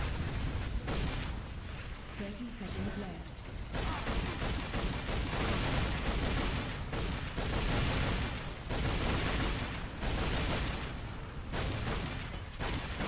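Dense continuous gunfire and explosions in the Unreal Tournament pre-alpha shooter, rapid overlapping shots and booms filling the whole span, loud and relentless with faint voice underneath.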